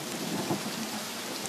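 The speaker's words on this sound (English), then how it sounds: "Does it have to rain every single day?" Rain pours steadily in the survival video game The Forest, a constant hiss of drops with low rumbling thunder rolling underneath, even and continuous with no voices.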